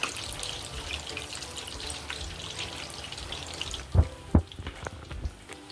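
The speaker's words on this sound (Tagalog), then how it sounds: "Sobrang ulan pa rin ito." Heavy rain in the Philippines falls as a steady, dense hiss throughout, joined near the end by a few close thumps and clatters.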